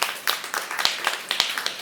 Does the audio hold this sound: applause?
yes